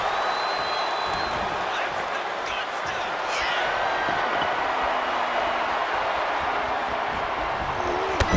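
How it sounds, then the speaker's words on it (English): A raucous arena crowd roars steadily through a WWE 2K24 wrestling match, a dense wash of cheering and noise with faint thuds and higher calls rising from it. "What a raucous crowd here tonight."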